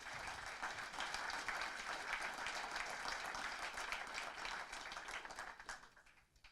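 A conference audience at the MindFhack 2018 event gives a sustained round of applause, dense clapping throughout that fades out at the very end.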